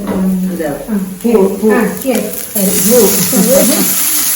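Small onions sautéing in a pan while making agathi flower stir-fry, a steady frying sizzle with stirring scrapes running underneath continuous talking throughout.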